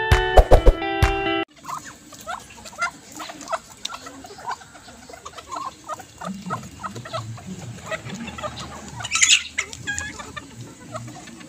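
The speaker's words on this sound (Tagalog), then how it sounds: "So magpapakain natin yung mga manok mga dyan." Backyard chickens cluck at feeding time behind a house, a steady chorus of short clucks and calls near and far, with louder bursts late on and a brief clattering burst at the very start.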